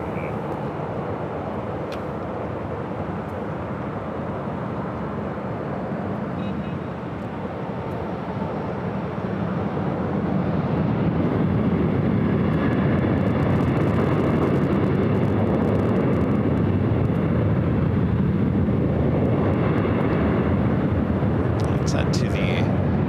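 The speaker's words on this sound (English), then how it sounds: "To the Delta A321neo coming in from Florida." A Delta A321neo airliner arrives from Florida at LAX, its engine roar swelling from a distant rumble to a steady loud drone, with people talking over it.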